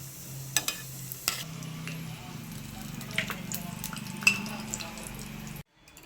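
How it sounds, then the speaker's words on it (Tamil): Cashews and raisins frying lightly in ghee give a soft, close sizzle with a few clinks of a spoon against the pan. A low hum runs underneath, and the clip cuts to silence at the end. "அது மாதிரி திராட்சையும் இதை வந்து நம்ம நெய்யில் வந்து லைட்டாக வறுத்து எடுத்துக்கலாம்"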